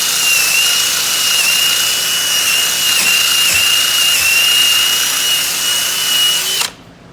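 A power tool spins steadily for several seconds to clean out a bushing sleeve on a Peterbilt truck, a loud, close, continuous whine that stops abruptly near the end.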